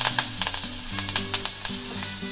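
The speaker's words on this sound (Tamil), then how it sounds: "கடுகு நல்லா பொடி ஆரம்பிச்சிருச்சு" Mustard seeds spluttering in hot oil for a tempering, a crackling sizzle with sharp little pops scattered irregularly over a low steady hum, close by and without speech.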